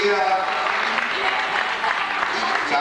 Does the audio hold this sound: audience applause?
yes